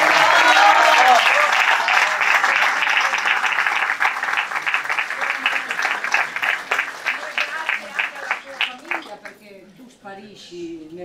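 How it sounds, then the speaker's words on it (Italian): An audience at the 70th Castellamonte historic carnival breaks into loud, dense applause that gradually thins into scattered individual claps and fades out over about eleven seconds. "E io farei un applauso a noi."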